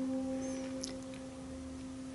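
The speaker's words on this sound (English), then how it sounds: "this is what middle C is going to sound like" A single sustained harp note, middle C, rings softly and evenly, a quiet clear tone with no other sounds around it.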